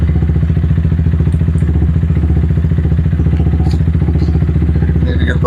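A motorcycle idling with the clutch lever pulled in, giving a steady, close, rhythmic low thumping putter with a slight clatter, continuous and even throughout, with a brief light click near the end.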